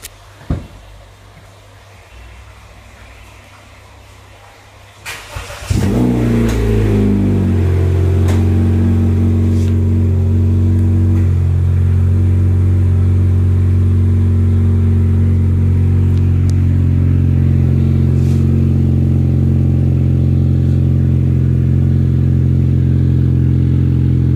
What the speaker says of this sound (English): just listen to the cold start of my Honda City.